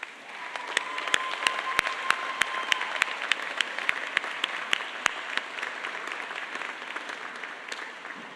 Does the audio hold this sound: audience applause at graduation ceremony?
yes